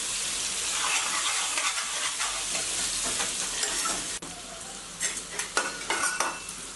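Radish frying with turmeric and chilli powder in a pan for sambar over a medium flame, a close, steady sizzle with spoon scrapes and a few clinks, stirring growing brisker toward the end, no voices.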